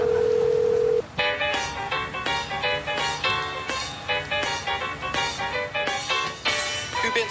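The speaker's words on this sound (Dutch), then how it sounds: "Tijd om het telefoonnummer op het briefje maar eens te bellen." A steady dial tone gives way to a rapid series of telephone keypad tones as a number is dialed, each beep short and clear, followed by ringing tones on the line.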